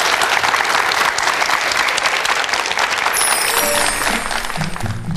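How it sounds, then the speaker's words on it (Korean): A studio audience gives a hearty, dense round of applause to welcome lecturer Son Cheol-ju at a televised lecture, sustained and loud before tapering near the end. "손철주 선생님의 특강 힘찬 박수로 청해 듣겠습니다"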